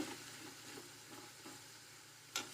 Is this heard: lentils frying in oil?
yes